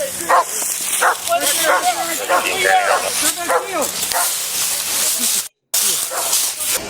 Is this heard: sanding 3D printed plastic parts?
no